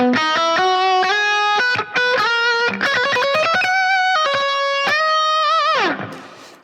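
A distorted electric guitar plays a quick run of picked notes climbing upward, ending in a descending slide that fades out.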